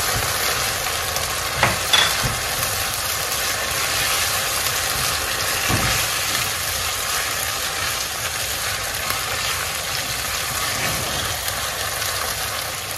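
Tomato paste is stirred into a simmering corned beef and cabbage stew, with a steady sizzle and bubbling and a few sharp scrapes and knocks of the spoon against the pot early on.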